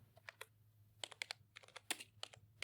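Computer keyboard keys tapped in quick irregular bursts, close and fairly faint, with short pauses between clusters of keystrokes and no talking.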